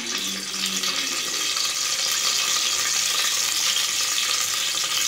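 Cinnamon and star anise frying in hot oil for prawn biryani make a loud, constant close-up sizzle, an even hissing crackle with no pauses.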